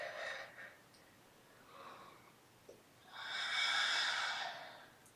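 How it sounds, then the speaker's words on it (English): Slow, deep breathing during a flowing yoga practice: a breathy exhale, a softer breath, then a long drawn-out airy exhale, close and quiet with no talking. "For two more deep breaths."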